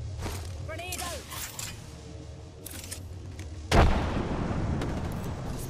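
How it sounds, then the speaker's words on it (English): A grenade goes off in a video game. After a stretch of quieter in-game sounds, one loud, sharp blast lands partway through and leaves a rumbling tail that lasts to the end. "Grenade out!"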